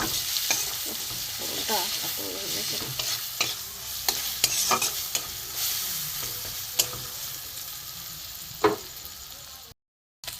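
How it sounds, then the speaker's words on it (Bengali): Cumin, coriander, turmeric and chilli powder with grated ginger sautéing in a pan for vegetarian ghugni, a continuous sizzle with repeated scraping and knocking of a spatula stirring, close, ending in a brief silence. "ধনে গুঁড়ো দিয়ে দেবো, আদা গ্রেট করা দিয়ে দেবো, হলুদ গুঁড়ো, লঙ্কার গুঁড়ো দিয়ে আমি এটাকে কষবো"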